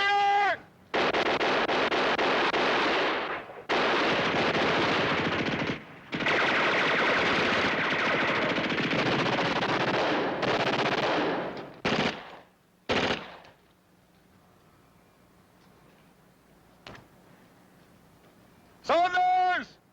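Gunfire and machine gun fire in a 1963 World War II combat drama, long loud sustained bursts of automatic fire broken by brief gaps, then quieter stretches with a shout of voices mixed in.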